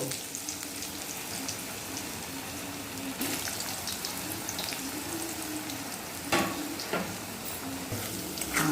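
Cut potatoes hiss and crackle steadily in oil left from frying kalbaush fish, with black cumin tempering, a continuous close sizzle broken by a few sharp clatters of utensils.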